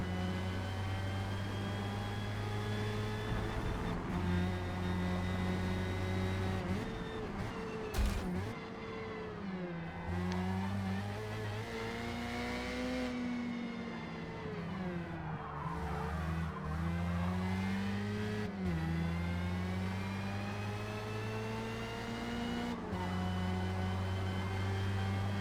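A Formula Mazda race car in Forza Motorsport laps Indianapolis Motor Speedway, its engine droning steadily and rising and falling through gear changes, with tire squeal in corners, continuous and fairly quiet, no talking.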